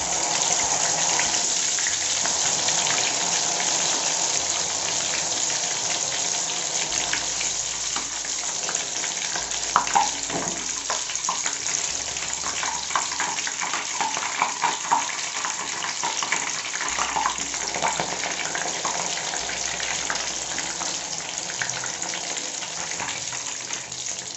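Paneer frying in hot oil, a steady, close sizzle and bubbling that carries on unbroken throughout with small crackles, and no one speaks over it.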